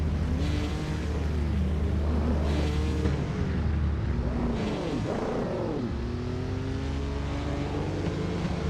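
Racing car engines in a racing video game roar continuously and loudly, with several cars revving, shifting and sweeping past one another throughout, with no talking.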